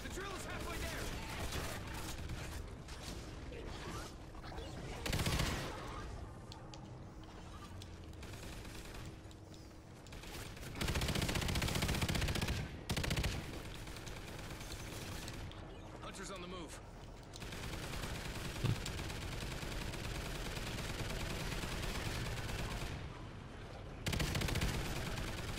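Turret gunfire in a zombies video game, with repeated bursts of rapid shots and louder blasts standing out from steady game noise, while a voice talks over parts of it.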